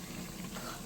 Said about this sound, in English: So now we're flipping the bean cakes over